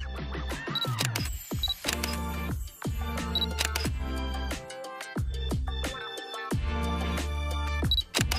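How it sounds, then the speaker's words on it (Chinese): Camera shutters fire together in a multi-camera facial-capture rig, producing sharp clicks and mechanical clacks in repeated bursts over a steady low hum. "外部工作人员按下快门，所有相机就会同时拍摄人面部各个角度的照片"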